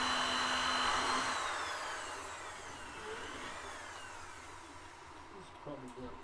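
A power drill with a dull bit whines and grinds continuously with a strained, high-pitched tone that slowly winds down, followed by a couple of faint knocks.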